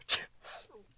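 A single sharp sneeze bursts out close by, followed by a faint breathy trailing sound, during a casual chat among graduating seniors.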